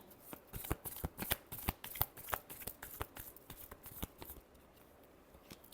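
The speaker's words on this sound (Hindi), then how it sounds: "कैसी रहेगी टॉरस की लास्ट शफल।" Tarot cards being shuffled by hand, a quick series of crisp riffling snaps and soft flutters, close and fairly quiet, fading to near silence at the end.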